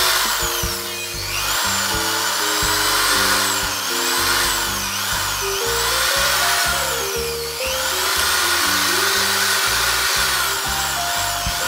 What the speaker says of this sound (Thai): ตอนนี้อยู่ในขั้นตอนของการที่เจาะทำฐานเพื่อจะวางตัวหลอดครับ